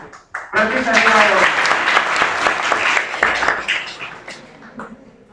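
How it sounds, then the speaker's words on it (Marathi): A classroom applauds a correct answer with a burst of clapping from a group of students. A voice is heard briefly at the start, and the clapping swells, holds, then tapers off. "उत्तर दिलं तर टाळ्या वाजवले जातात"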